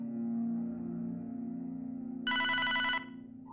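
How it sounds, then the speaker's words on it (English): A telephone rings in Hotline Miami 2, a bright electronic trill sounding for under a second over a steady low hum and drone of background music. "The telephone. You're not going to answer?"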